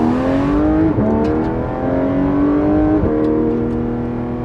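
A Porsche 991.2 GT3 RS 4-liter engine with side muffler delete, redlining at 9,000 RPM, revs hard and high, rising in pitch, briefly dropping between gear shifts, then climbing again, loud and close.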